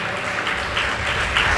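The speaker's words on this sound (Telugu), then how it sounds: "చప్పట్లు కొట్టి దేవుని నామాన్ని మహిమపరచండి" Congregation clapping during a church prayer service, dense continuous applause from many hands filling the room, loud and steady with no voices on top.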